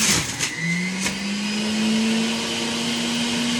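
A juicer grinds red cabbage with a steady, loud mechanical whir after a few sharp clunks of pieces dropping in, its motor pitch rising slightly as it runs on alone.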